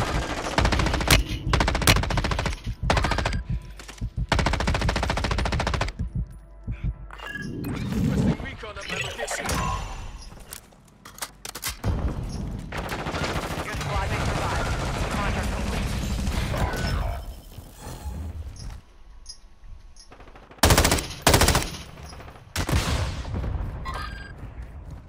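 Dense automatic and single-shot gunfire in Call of Duty: Modern Warfare II, with bursts and booms coming in waves through most of the stretch while players talk over the combat.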